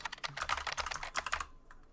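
Rapid clacking on a computer keyboard during an Overwatch collegiate match stream, a quick run of close, crisp keystrokes that stops abruptly after about a second and a half.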